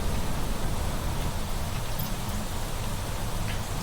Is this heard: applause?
no